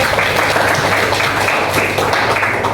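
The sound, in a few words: classroom applause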